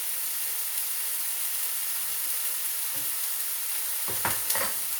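Lentils and tomato puree are stirred in a frying pan for a vegan Wellington, a soft steady sizzle and hiss with a few scraping stirs near the end, quiet and without talk.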